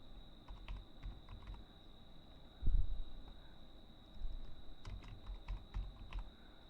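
Close-up typing on a computer keyboard while entering a font name into Excel VBA code, irregular bursts of soft key clicks with one heavier thump and a steady electronic whine underneath.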